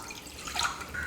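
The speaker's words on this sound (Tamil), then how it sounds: "பாத்திரத்தில் கொஞ்சம் தண்ணி சேர்த்துக்கிறேன்." Water splashes steadily as it is poured into a cooking pot sitting on a lit stove, a brief close pour with no voices.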